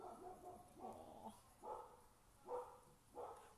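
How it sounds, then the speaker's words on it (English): Neighborhood dogs bark at a distance in a quiet setting: about five faint, evenly spaced barks spread over a few seconds, with no voices over them. "We have many neighborhood dogs"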